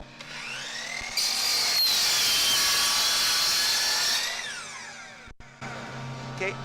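Compound miter saw running: the motor spins up to a steady, loud whine that holds for several seconds, then winds down and fades, followed by a brief pause and a quieter tail of noise.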